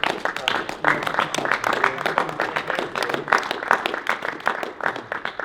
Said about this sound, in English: I'm sure they want to join me in giving you a bumper applause